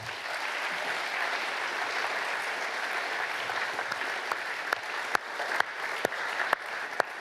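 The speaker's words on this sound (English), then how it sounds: "please give yourselves a massive round of applause" A gala crowd at a rhino fundraiser applauds itself, a sustained, even roar of clapping that thins out in the last seconds into a few sharp, separate claps.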